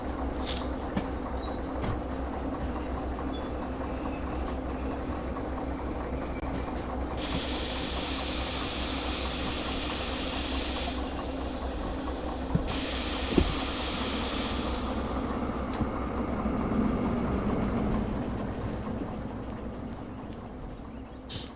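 Freight cars drift along rails in the Derail Valley video game, giving a continuous rumbling roll with a steady hiss that swells for stretches, plus a couple of faint clanks, no talk.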